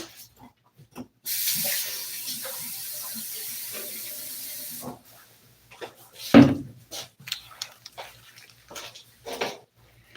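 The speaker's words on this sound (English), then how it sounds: "I'm going to put some water in here." Water hisses steadily into a container for several seconds, then stops, followed by scattered knocks, clatter and handling noises nearby.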